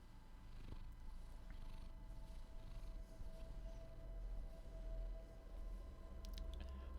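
A neighbor's cat purrs in a low, continuous rumble close by, steady throughout with a faint tonal hum in the background and no talking.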